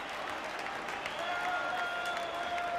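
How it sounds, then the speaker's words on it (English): Rangers fans at the 1990 League Cup final against Celtic raise a huge, sustained cheer with applause, a broad crowd roar with a commentator's voice over it. "A huge cheer going up from the Rangers fans."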